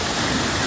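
Jatashankar waterfall at Girnar, a steady broadband rush of falling water, loud and continuous with no voices over it.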